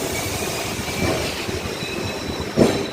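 A passenger train from Vijayawada pulls out of a station and rolls on, giving a steady rumble of railcars with a wheel squeal and a louder clunk near the end.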